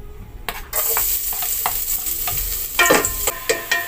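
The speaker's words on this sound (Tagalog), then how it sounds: "Lagyan na natin ang mantika. Lagyan na natin yung bawang." Garlic dropped into hot cooking oil for chicken tinola sizzles and crackles, with scraping stirs and bursts of frying that flare louder near the end.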